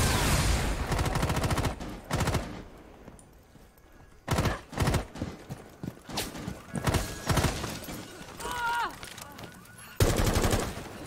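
Machine gun fire in an online shooter game comes in several sharp bursts of rapid shots, some loud and close, others further off, separated by short quieter gaps.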